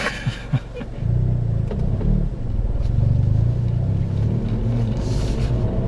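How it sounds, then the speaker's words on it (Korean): A Hyundai Veloster N with a manual gearbox shudders as it pulls away, a steady low engine rumble with a juddering vibration that holds from about a second in and sits close and fairly loud. "지금 이제 부르르 떨리는 거는 출발하는 시점에서 악셀을 조금 더 밟아주시면 돼요"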